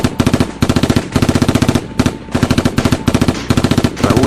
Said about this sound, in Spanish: Raúl disparó en dirección a los enemigos, obligándolos a mantenerse a cubierto